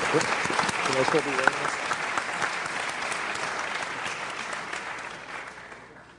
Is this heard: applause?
yes